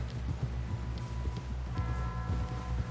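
Horse hooves walking in the video game Red Dead Redemption 2, a steady close clip-clop rhythm of several hoof strikes over a low ambient game hum, with no talk.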